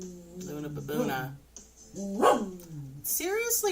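A pet dog named Luna barks at home in short, sharp bursts, several close, loud yips and bow-wows separated by brief pauses.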